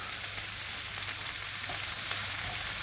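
Frozen chicken wings fry in a hot pan, giving a steady, close, continuous sizzling hiss with small crackles and no talking.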